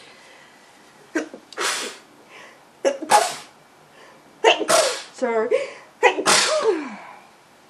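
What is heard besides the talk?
sneezing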